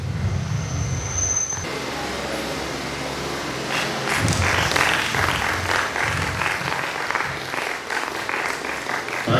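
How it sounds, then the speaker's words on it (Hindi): Audience clapping breaks out for two men called up onto a stage at a company celebration in Hyderabad, a steady, dense wash of hands that swells and holds for several seconds, with a low rumble underneath. "एक बार जोरदार तालियां हो जाए यूसुफ शरीफ सर के लिए और शिशुपाल सर के लिए।"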